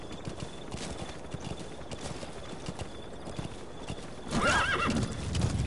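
Horse hooves clip-clop in a quick galloping rhythm in Metal Gear Solid 5: The Phantom Pain, then a loud, close whinny rings out near the end, over faint game background sound.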